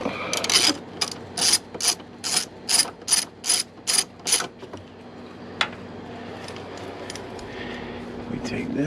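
A ratchet loosens the 11 mm valve cover bolts on a 2008 BMW 328xi, sounding as a quick burst of about ten sharp, close clicking strokes. A faint clank follows in a quiet workshop.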